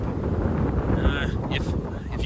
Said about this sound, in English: it's pretty windy out right now